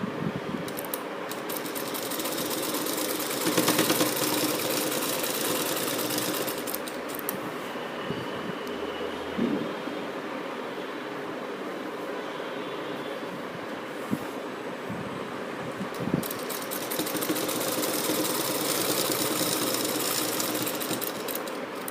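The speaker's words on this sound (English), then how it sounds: "Press it flat and stitch at the edge of the fold." A sewing machine stitches along the pressed edge of a folded kameez side slit in a long, steady mechanical whir, close and continuous, with brief pauses in intensity and no talking.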